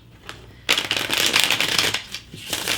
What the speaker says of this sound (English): Just a little more shuffle.